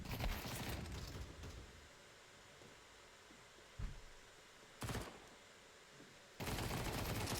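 Gunfire in a competitive CS:GO-style shooter match with an MP9: rapid automatic bursts at the start and end, with a few isolated shots in between over a faint background hiss.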